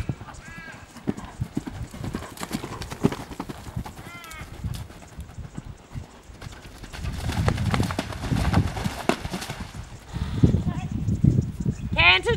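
Horse hooves clip-clop at a canter during a riding clinic lesson, a steady rhythmic drumming that grows louder and heavier toward the end, with an instructor's voice heard over it.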